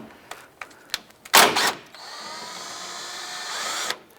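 A power drill with a 13mm socket spins out a radiator bracket bolt on a 2004-2012 Chevy Colorado, heard as a few clicks and a short burst, then a steady whirring run of about two seconds, close and clear.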